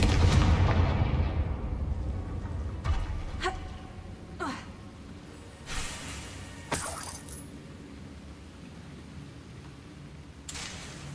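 Spell effects from Hogwarts Legacy, with a burst of the Confringo explosive spell: a rumbling blast at the start, then several sharp cracks and impacts over a low game background.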